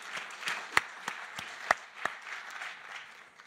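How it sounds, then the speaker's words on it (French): Audience applause at the launch event of the French pavilion, a steady wash of many hands clapping with a few sharper, louder claps standing out, moderately distant and continuous throughout. "je crois qu'on peut à nouveau l'applaudir"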